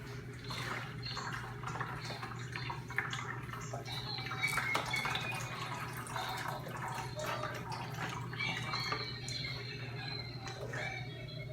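Cherry juice drips and trickles steadily from a lifted fruit bag into a container nearby, with faint splashes and handling sounds over a low background hum.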